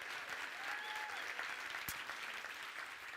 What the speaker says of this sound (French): Est-ce qu'on peut encore les applaudir, le chœur de louange, les musiciens, les acteurs?